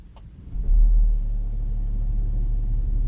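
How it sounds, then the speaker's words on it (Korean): A BMW X5 30d with an inline six-cylinder diesel engine cranks and fires up with a sudden low surge, then settles into a steady, rumbling idle. "시동을 한번 걸어볼게요."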